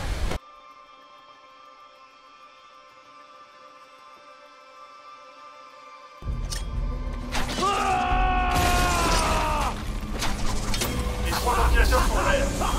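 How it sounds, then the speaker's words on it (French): A ventilation fan powering up in Batman: Arkham Asylum, starting as a steady mechanical hum and then surging into a loud, rising whir with whooshing air over a low rumble. "Le ventilateur 2 est alimenté."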